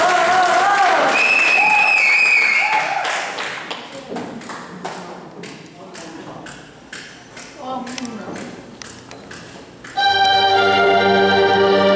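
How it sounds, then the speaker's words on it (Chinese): Audience applause at a stage show introducing a trio performing a song: scattered claps and crowd noise under a speaking voice, framed by music before and after. "来，掌声鼓励一下。"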